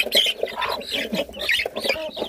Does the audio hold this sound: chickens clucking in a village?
yes